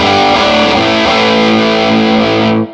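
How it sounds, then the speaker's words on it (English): A guitar through a Formula No. 55 pedal in red mode with gain at maximum rings out as a single thick, saturated chord held for about two and a half seconds, then cuts off abruptly. "turn things all the way up for you on the red mode just so you can hear what that sounds like"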